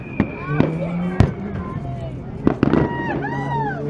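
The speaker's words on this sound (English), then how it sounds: "The fireworks." Fourth of July fireworks burst in sharp booms and crackles, several close reports with whistling trails, while a crowd chatters and people talk nearby.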